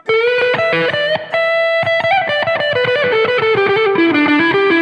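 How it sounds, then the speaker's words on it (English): Overdriven electric guitar, a Sire Larry Carlton H7 on the neck pickup, runs through a fast lick with a warm, rounder tone, notes tumbling downward and sustaining with grit. "This neck pickup sounds great."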